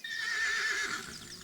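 A horse in a stable gives a single loud, high whinny that rises and then trails off over about a second, heard alone with no talk.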